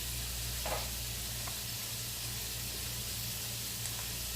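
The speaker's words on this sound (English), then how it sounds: "now you can hear those potatoes. They're starting to get a little bit more high-pitched bubbles to them" Potatoes fry in hot oil, giving a steady, fairly faint sizzle with fine high-pitched bubbling and an occasional soft pop, with no voices.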